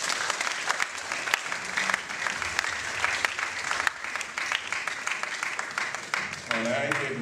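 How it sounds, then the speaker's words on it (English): Applause from the audience at a career fair after a government policy announcement, steady and full for several seconds, with a speaking voice carrying over it and trailing into talk near the end. "Please, a round of applause."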